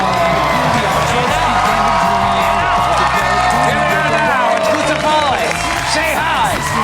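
A live show audience at a Big Bang Theory taping cheers, whoops and claps loudly and continuously, a dense close crowd roar with scattered shouts throughout.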